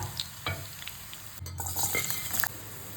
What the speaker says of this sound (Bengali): মিডিয়াম হিটে ফ্রাই করছি যাতে পেঁয়াজগুলো অনেক ক্রিস্পি হয়